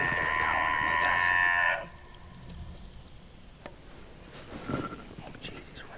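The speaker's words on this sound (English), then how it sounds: "I don't know if there's a cow underneath us" A cow moos loudly and close for nearly two seconds near elk hunters in the Montana backcountry. A quiet outdoor hush with faint whispered voices follows.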